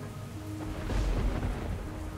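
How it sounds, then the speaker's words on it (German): Thunder and steady rain in the video game Dungeon Defenders: a low, soft rumble of thunder rises and fades under a continuous hiss of rainfall, with no voices. "So richtig düster gehalten mit Blitz und Regen und allem."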